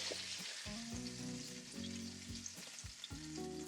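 Sausage frying in a pan for a keto breakfast, a steady close sizzle and crackle of hot grease with repeated scraping and stirring clatter, no voices.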